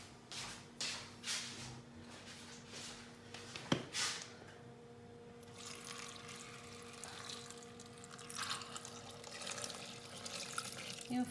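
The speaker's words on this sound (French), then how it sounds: "je vais ajouter de l'eau." Water pours into a Thermomix bowl for fruit juice, a steady running trickle with splashy bursts early on and a faint hum in the background.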